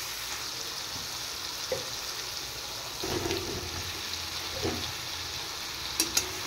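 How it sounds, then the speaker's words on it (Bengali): Fried potatoes sautéed with turmeric and a splash of water in a pan, a soft steady sizzle broken by a few scraping stirs of a spatula, with no talk. "এবার আলু সহ একটু সাঁতলে নেব।"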